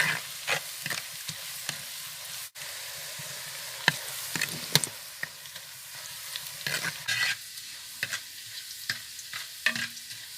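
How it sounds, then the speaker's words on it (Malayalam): Ginger, garlic and green chili fry in coconut oil for a Kerala-style mackerel curry, with a steady sizzle under repeated spoon scrapes and clinks as the pan is stirred. "അപ്പോൾ നമ്മുടെ ഇഞ്ചിയും വെളുത്തുള്ളിയും പച്ചമുളക് നമ്മൾ വെളിച്ചെണ്ണയ്ക്കകത്ത് നന്നായിട്ട് മൂപ്പിക്കും"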